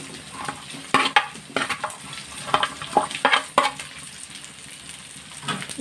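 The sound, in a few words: onions sautéing in a pan with ginger-garlic paste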